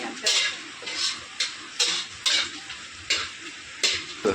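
Whole garam masala spices frying in hot oil for mutton rogan josh, with repeated stirring scrapes cutting through a steady sizzle at close range, about eight bursts of stirring in quick succession.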